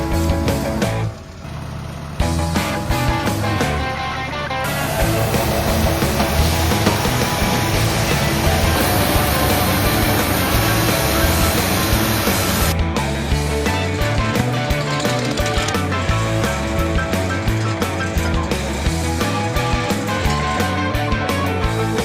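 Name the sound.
sawmill milling wood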